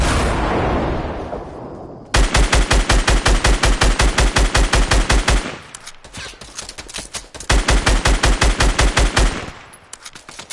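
Rapid automatic gunfire in the Fortnite video game, two long loud bursts of evenly spaced shots separated by a short pause, with a hissing blast just before the first burst.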